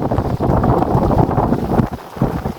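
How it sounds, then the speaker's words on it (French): Wind rising and buffeting the microphone aboard a sailboat as it picks up to around 16 to 18 knots, a steady loud rushing roar with gusty swells and no talking. "on entend là, le vent qui monte un peu là"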